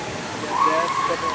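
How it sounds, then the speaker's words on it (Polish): Water flows steadily along the lazy river at a Six Flags water park, a continuous rushing wash with a faint tonal whine over it and voices murmuring nearby. "To jest tak zwana leniwa rzeka."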